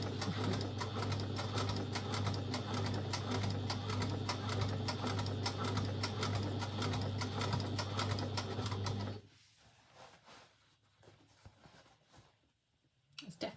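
A sewing machine stitches a circular dress seam in one loud, rapid, continuous rattle for about nine seconds, then stops abruptly, leaving faint room noise.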